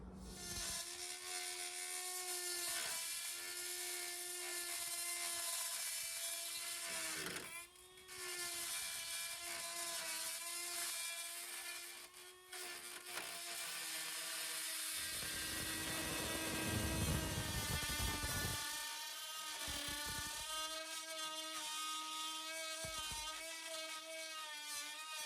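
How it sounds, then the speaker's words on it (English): A high-pitched rotary deburring tool whines and grinds loudly up close on rust repairs in the wheel well of a 1973 VW Super Beetle, its pitch dipping and rising as it bites and briefly stops. "it's a great tool for getting in corners. You can get all different kind of deburr tips for it. And but it's loud too"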